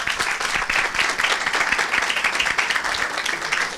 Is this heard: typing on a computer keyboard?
no